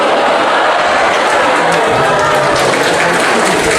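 Large crowd at an Islamic lecture in Padang Panjang applauding and cheering, a loud, dense roar of clapping and voices that stays constant throughout, with a voice faintly underneath.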